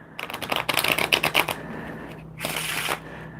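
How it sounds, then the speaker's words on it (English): A deck of playing cards is shuffled up close, with a quick burst of crisp riffling flutters followed by a shorter second riffle. "if I shuffle it, then this is a brand new shuffle that you've never seen"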